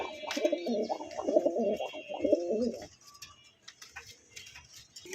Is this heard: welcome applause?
no